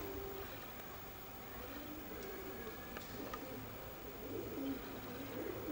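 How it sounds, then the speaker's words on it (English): Pigeons cooing by the steps at the side of a village church in Andalusia, Spain, soft repeated coos over a steady outdoor hum with faint traffic. "Got a lot of pigeons."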